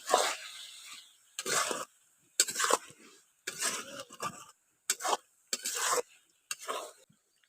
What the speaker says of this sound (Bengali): পরিমাণ মতো লবণটা দিয়ে ভালো করে মিশিয়ে নিচ্ছি।